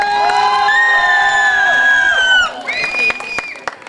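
Loud cheering at a sangeet welcoming the bride: long sustained whoops and high shouts from a close crowd, breaking into scattered yells and claps toward the end.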